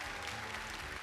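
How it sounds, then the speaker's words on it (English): An audience at a televised singing-competition show applauds, a dense, steady wash of clapping with no break across the moment. "Asaf, George, Aizo, give me a round of applause, ladies and gentlemen."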